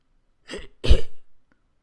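A short, throaty cough in two quick bursts, close and fairly loud, with no talking around it.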